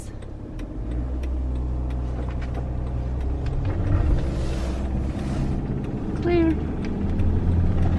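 A four-wheel-drive van grinds across pure ice on a winter road, its engine a steady low rumble close by, with a brief spoken word near the end.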